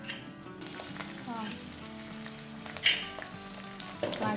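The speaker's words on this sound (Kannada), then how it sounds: "ಚೆನ್ನಾಗಿ ಫ್ರೈ ಆಗಿದೆ" Country chicken fries in a pan with a continuous, fairly quiet sizzle and crackle, with occasional stirring scrapes.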